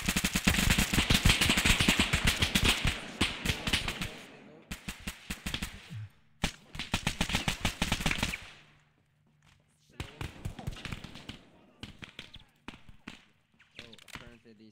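Video game gunfire crackles in rapid automatic bursts, dense volleys broken by short pauses, loud and close, with a voice talking briefly amid the shooting.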